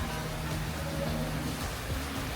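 Steady hiss of rain falling on Nusa Penida, Bali, continuous and fairly loud, with a faint low rumble beneath and no voices.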